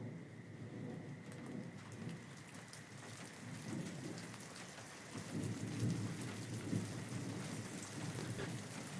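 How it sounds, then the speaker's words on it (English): A thunderstorm over Grand Junction, with steady hissing rain on surfaces and low rumbles of thunder rolling underneath, quiet and continuous with swells in the middle. "we come back to the storm at the beginning, as it washes over the green patches of Grand Junction"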